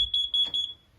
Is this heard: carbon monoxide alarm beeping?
yes